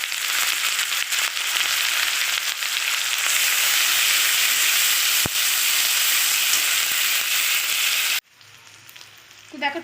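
Chopped tomato and a ground onion and green chilli paste sizzle loudly in a hot pan while cooking a prawn curry, a dense steady hiss up close that cuts off abruptly near the end.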